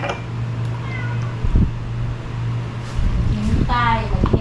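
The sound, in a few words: cats meowing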